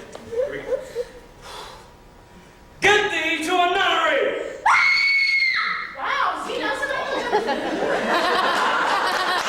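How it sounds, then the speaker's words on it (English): A stage actress playing Ophelia in a comic abridged Shakespeare production lets out loud screams, several bursts over a few seconds, amid voices and audience laughter. "Hamlet says, get thee to a nunnery, and Ophelia screams."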